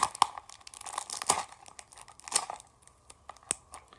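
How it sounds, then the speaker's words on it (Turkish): Plastic wrapping around a toy magic box is torn and crinkled open by hand: close, uneven bursts of crackling and ripping with short pauses between them. "Sihirli kutuyu açıyorum"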